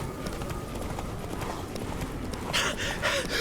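Roach, a horse in The Witcher 3: Blood and Wine, gallops with steady rhythmic hoofbeats from start to finish, closely miked and continuous, with a brighter burst of clattering near the end.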